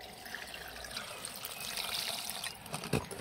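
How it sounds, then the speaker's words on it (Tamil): Clean water poured into a cooking pot for a jackfruit kootu, a soft, steady trickle and splash that builds gently and ends with a brief louder splash. "இது சுத்தமான தண்ணி வச்சுக்கிறேன்"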